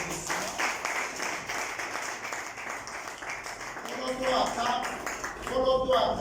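Audience applause at a political party event. Scattered clapping from a gathered crowd rises and falls, with voices talking and murmuring over it toward the end.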